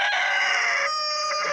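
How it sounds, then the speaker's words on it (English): Chickens cluck and crow close by in a short burst, a loud, sustained fowl call that shifts pitch midway, heard alone without talk. "interrupted by chickens."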